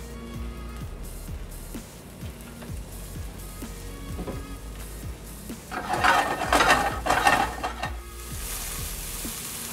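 Mushrooms fry in oil with white pepper in a pan, a steady close sizzle broken by repeated spoon stirs and scrapes, swelling louder for a couple of seconds midway.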